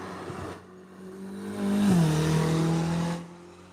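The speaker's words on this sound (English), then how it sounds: "A few Ferraris out on track." Ferrari sports car on the Nürburgring circuit, its engine note swelling as it passes and drops in pitch, then fading after a few seconds, heard from trackside with no talk.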